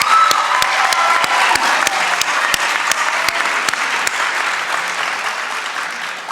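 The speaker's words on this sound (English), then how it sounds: "one last thunderous round of applause for all of our outstanding students" A large audience at the 2025 spring honors night at East Georgia State College claps loudly and steadily, a thick sustained roar of hands with sharp individual claps standing out, gradually easing toward the end.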